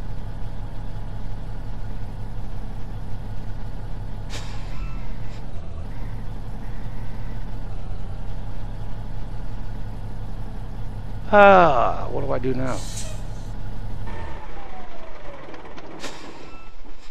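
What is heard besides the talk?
modded truck pulling a 70-ton load, from a video game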